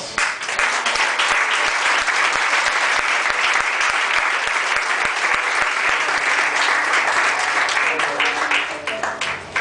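A church congregation applauds loudly and steadily, close-sounding clapping from many hands with faint musical tones beneath, tapering slightly at the end.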